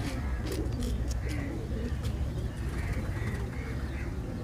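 Indian high-flying pigeons coo in soft, repeated low calls close by, over a steady background hum and faint rustle of wings.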